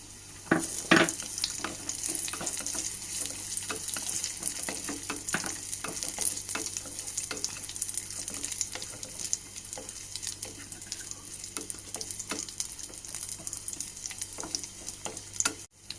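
Cashews, raisins and onions frying in ghee or oil for a caramel rava kanji, a dense continuous sizzle with repeated scraping stirs and ladle clinks, close and alone without talk.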